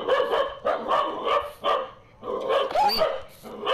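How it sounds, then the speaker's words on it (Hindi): A tamed dog in Minecraft barks repeatedly in short, loud bursts with brief gaps, a few yips mixed in, close and clear with no talk over it. "कुत्ता भौंक रहा, भौंकने की आवाज़ भी आ रही कुत्ते की।"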